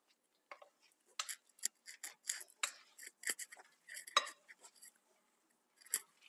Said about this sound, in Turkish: Bütün peynirimi şimdi ilave edip güzelce karıştıracağım en sonunda.